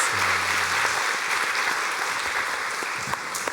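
A church congregation applauding steadily during a Sunday service, a sustained wash of clapping from many hands, fairly loud and continuous, with faint music notes at the start.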